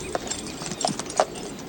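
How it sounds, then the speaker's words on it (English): Horse hooves clip-clopping in an outdoor sword-fighting movie scene, a few separate moderately loud hoof strikes in an irregular walking rhythm, close by, with no talk. "They moved the horse out of the scene."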